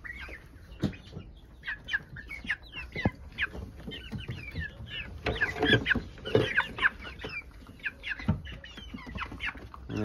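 French broiler chickens feeding in a roomy cage cluck and chatter steadily, with many overlapping clucks and calls at close range.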